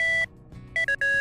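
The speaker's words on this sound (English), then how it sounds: "That's her ringtone." A phone ringtone in a machinima comedy sounds as a few loud, clean electronic tones, one held note then short quick beeps separated by brief gaps.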